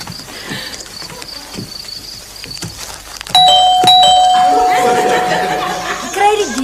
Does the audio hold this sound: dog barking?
no